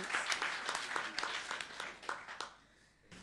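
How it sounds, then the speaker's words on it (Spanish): A church congregation claps together after a deliverance prayer, a dense patter of hands filling the room for over two seconds before it thins and fades out. "Vamos a aplaudir a Jesucristo una vez más por esa maravillosa liberación"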